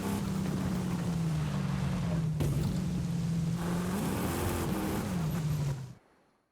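An old car's engine drones steadily while driving in Forza Horizon 5, loud and close with a slight pitch rise near the end before cutting off abruptly.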